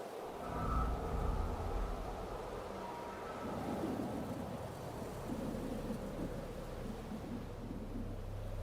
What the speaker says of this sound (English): We're still in the storm.